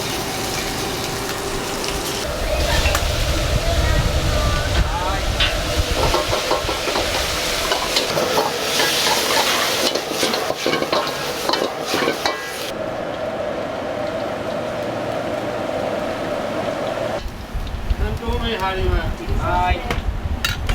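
Busy Chinese diner kitchen at the main branch of a Saitama chain, a wok stir-frying vegetables: a steady loud roar of burner, scraping and sizzling clatter running the whole time, with voices talking over it.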